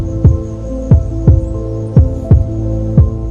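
Slow heartbeat of a hummingbird in torpor, six soft low thumps evenly spaced about every 0.7 seconds over a steady hum, with no talking.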